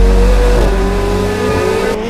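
A 2024 McLaren 750S Spyder supercar revs loudly through its exhaust, a sustained close engine drone holding a steady high pitch with no talking.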